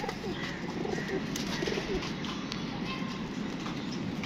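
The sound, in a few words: pigeons cooing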